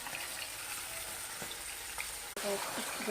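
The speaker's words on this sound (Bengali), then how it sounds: "ভালো করে ভেজে নিই" Large fish fry in hot oil in a pan, a continuous close sizzle and crackle with a few small spits and a brief clunk near the end.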